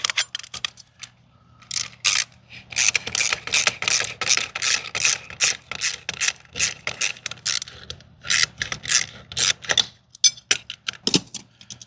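Ratchet wrench backing a long screw out of an inground pool light fixture, a close run of rapid clicking bursts in quick repeated strokes with brief pauses between, no talking.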